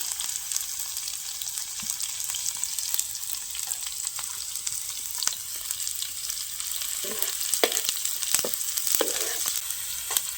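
Sliced onions frying in a pan for a village-style egg roast, giving a steady close sizzle with occasional scraping stir strokes and no talking.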